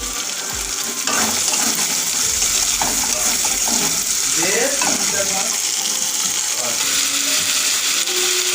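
Onions sizzle in a pan with a loud, continuous hiss, while scraping and clattering from stirring cut in and out over it and no one speaks.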